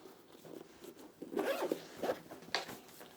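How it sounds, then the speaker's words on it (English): A zipper closes on a small DJI Neo drone carry bag holding the drone, controller and battery pack, giving a few quick rasping pulls after some light handling, close and fairly quiet. "that'll even zip up as well"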